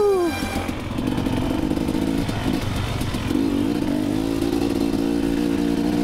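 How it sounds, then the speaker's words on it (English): An off-road motorcycle on an OHV trail revs steadily and loudly with the clutch pulled in, its engine drone rising and holding nearly without a break, with some rattling. "I know it sounds like I don't have the clutch in a lot, but I do have the clutch in."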